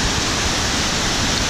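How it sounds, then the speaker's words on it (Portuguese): Loud, steady roar of a waterfall at Cachoeira do Postinho in Sengés, Paraná, a dense broadband rush of falling water that fills the whole moment, close and unbroken with no voices. "Cachoeira do Paraíso,"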